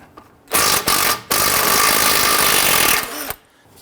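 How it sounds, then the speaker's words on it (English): An 18mm socket on a ratchet works loose a tie rod nut on a 2011-2017 Nissan Quest during steering rack bellows replacement, giving a close, loud burst of rapid clicking with brief breaks, then stopping. "We're going to use our 18mm socket on the nut, loosen that."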